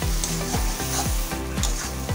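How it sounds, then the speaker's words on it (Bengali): Prawns sautéed with turmeric in a pan sizzle steadily while a spatula scrapes and stirs in a regular rhythm about twice a second, close and loud, with no voices. "হলদি দিয়ে একটু ভালো করে কষিয়ে নিচ্ছি"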